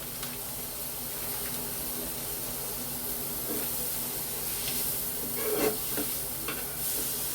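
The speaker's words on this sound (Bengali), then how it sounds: "একেবারে ড্রাই রোস্ট করে নেব" Spices and poppy seeds being dry roasted in a pan, giving a steady soft hiss with occasional scraping stirs, close and moderately quiet, no talking.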